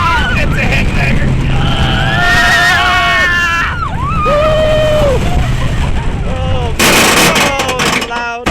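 Loud, continuous rattling and clattering with heavy bangs and screeching metal from a Boomerang roller coaster ride at Worlds of Fun, Kansas City, voices shouting and screaming over the din.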